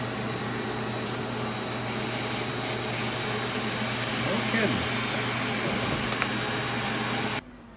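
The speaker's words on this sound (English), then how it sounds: "I'll let the vacuum cleaner work on that for a minute." A vacuum cleaner drones steadily while drawing a heated plastic RC airplane canopy down in a DIY vacuum-forming setup. The motor hum is close and constant, a short spoken remark passes over it, and the sound cuts off near the end.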